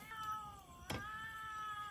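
A cat meows once, a short, faint cry in a bamboo thicket in the forest at night, followed by a sharp brief crack over a quiet, constant background hum.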